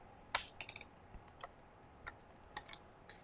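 Memory cards are handled at the card slot of a Nikon Z9 camera, producing a few faint, sharp plastic clicks and ticks in short irregular bursts against a quiet background.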